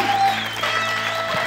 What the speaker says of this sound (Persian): تشویق دوستا هم است